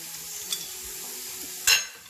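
Egg fried rice with vegetables gets stirred in a hot pan over high flame, with a soft sizzle underneath and two brief scraping clinks of the utensil against the pan, the second louder.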